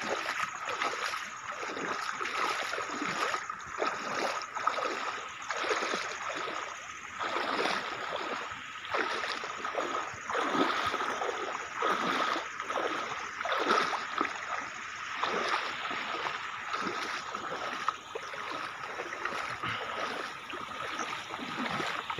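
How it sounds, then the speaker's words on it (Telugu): Rainwater runs through a small stream channel after heavy rain, a steady rushing and gurgling of water that is continuous and moderately close, with no talk. "వర్షం అయితే ఫుల్ పడింది, నీళ్ళు పారుతూనే ఉన్నాయి"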